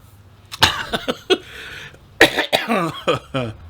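Someone coughs close by: a few separate coughs, a short pause, then a quicker burst of harsh coughing.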